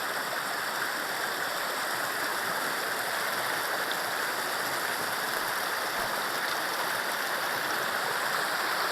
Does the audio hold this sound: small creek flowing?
yes